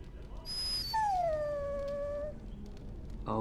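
A dog in the fantasy role-playing game Dragon Age: Origins lets out a single long, rising-then-falling whimpering howl, clear and fairly loud over a low game background.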